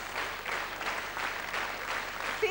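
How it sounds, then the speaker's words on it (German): A television studio audience at a German folk-music autumn show applauds steadily, dense clapping filling the space throughout with no voices on top. "Ich freue mich über diesen Applaus diesmal ganz besonders."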